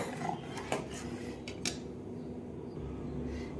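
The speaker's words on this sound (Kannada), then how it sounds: "ಒಂದು ಸ್ಪೂನ್ ತೊಗೊಂಡಿದ್ದನ್ನ ತಿರ್ವ್ಯಾಡ್ಕೋರಿ" A metal spoon clinks and scrapes a few times against a cooking pot of boiling lentils, faint against a steady background hum.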